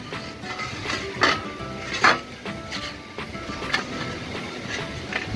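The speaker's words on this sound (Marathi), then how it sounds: "बघा, कैरीचे छान स्लाइस करून घ्यायचे पातळ पातळ." A knife slices raw green mango thinly, making a series of crisp cuts and taps against a board, close up, with two louder strikes early on and lighter, irregular cuts after.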